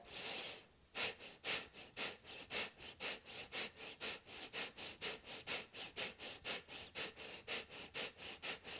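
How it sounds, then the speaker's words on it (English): Forceful, rhythmic exhales from yoga breathing during an intermediate flow, about sixteen sharp breath pulses spaced roughly every half second, close and steady, with no talking over them. "Exhale, exhale, exhale, exhale."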